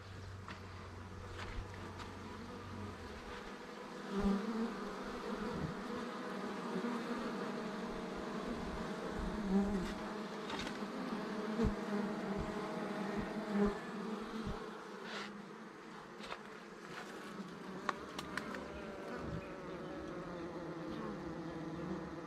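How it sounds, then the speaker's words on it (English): Honeybees swarm around an open top bar hive during an inspection, a dense continuous buzzing close to the ear with occasional louder passes and faint knocks against the hive. "We're going to check out one of the beehives today. And we're going to do hive number 1."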